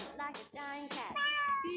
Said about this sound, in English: A funny cat.